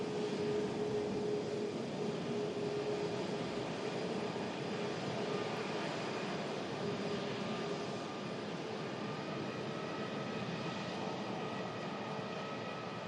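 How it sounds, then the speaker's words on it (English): A steady high-pitched whine from the brake cooling fans of an Airbus airliner holds throughout, with broad airport engine rumble underneath and thin tonal lines running across. "You can hear the brake fans engage on that Airbus aircraft. It's that high-pitched whining noise that you just heard then."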